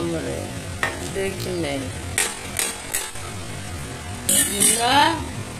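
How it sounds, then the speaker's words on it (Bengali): Chicken with masala and a splash of water sizzling in a pan while a spoon scrapes and stirs, with sharp clattering strokes and a bubbling fry beneath, and a voice talking faintly over it. "জল দিয়ে আবার মশলাটাকে পুরো চিকেনটাকে কষিয়ে নিচ্ছি ভালো করে"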